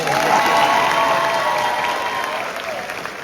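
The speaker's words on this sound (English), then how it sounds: "Can we give Damien another round of applause?" A large audience applauds loudly and continuously at a high school graduation ceremony, with a faint cheer mixed into the dense clapping that slowly eases toward the end.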